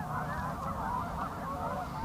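Canada geese honk steadily in a dense, overlapping flock chorus, loud and continuous throughout, with no talking.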